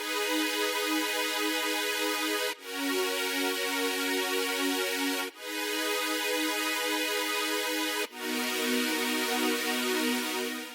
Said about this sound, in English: a saw pad, but then I just put some chorus, distortion, redux, phaser